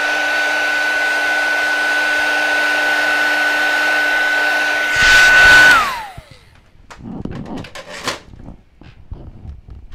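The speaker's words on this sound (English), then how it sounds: "when you're embossing on vellum, you don't want to play around with a heat tool that's not hot" A hot embossing heat tool blows with a loud, steady whirring hum for about five seconds while melting embossing powder on vellum, then switches off, leaving quieter handling clatter.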